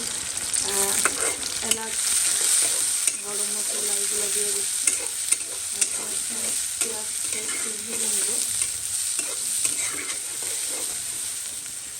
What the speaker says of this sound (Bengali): রান্না করছি সেখানে হচ্ছে তেলের মধ্যে পেঁয়াজ মরিচ